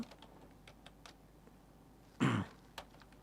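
Computer keyboard keys pressed to copy with Ctrl+Insert, a few faint light taps followed by one louder, sharper burst of clacking, close by in a quiet room.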